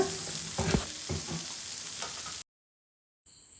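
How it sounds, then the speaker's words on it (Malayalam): Chicken with ginger and garlic fries in a pan for palak chicken, a close sizzle broken by several scraping stirs. The sound cuts to silence near the end, then a brief faint tone follows. "അത് ഇതിലേക്ക് ഇട്ട് കൊടുത്തിട്ട് ഒന്ന് ഇളക്കി യോജിപ്പിച്ചെടുക്കുക."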